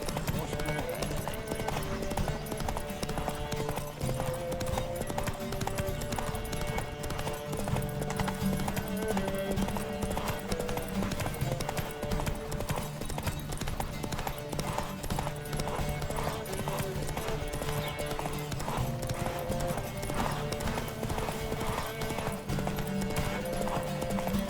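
Rapid rhythmic hoofbeats of a galloping horse in The Witcher 3: Wild Hunt over a steady music bed, continuous and loud, with occasional whinnies.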